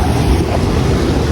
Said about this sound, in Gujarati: આમ જે પેલા બાજુથી દરિયા બાજુથી આ બાજુ આવે છે ને આવું એ અવાજ આવે છે ને પાણીનો બહુ મસ્ત આવે